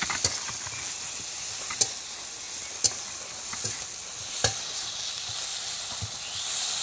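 Spice paste for egg curry sizzles steadily in a pan, a continuous close frying hiss broken by a few sharp clicks and taps of a utensil against the pan, with no talking.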